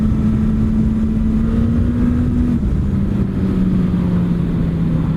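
Suzuki GSX S1000 GT motorcycle with a GSX-R based engine, riding along with a steady, loud drone whose pitch holds and then eases slightly, wind rush underneath, no voices.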